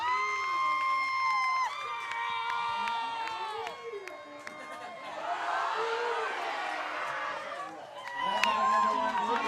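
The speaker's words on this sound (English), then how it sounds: "this Bears crowd continues to motivate their team" Softball crowd at a state championship game cheering on the Bears, with shouts, whoops and children's yells rising and falling loudly across the clip, heavier mid-way and again at the end.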